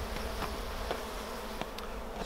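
Honey bees swarm around an opened hive as smoke drives them down, a loud, close, continuous buzzing drone with a few individual bees whizzing past.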